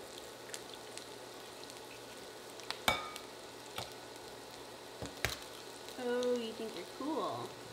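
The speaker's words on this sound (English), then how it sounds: "I'm gonna add the eggs to it" Eggs go into melted butter for cheddar jalapeno cornbread, giving a faint sizzle and crackle scattered with sharp clicks and taps. A voice rises near the end.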